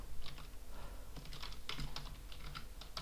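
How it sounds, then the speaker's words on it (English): Rapid keystrokes on a computer keyboard while HTML tags are entered in Notepad, a steady stream of close, crisp clicks with a few short pauses between bursts. "we'll just type in the tags again that we did earlier"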